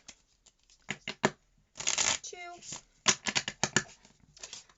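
Oracle cards shuffled by hand in several quick riffling bursts, close and crisp, with a brief voice speaking partway through.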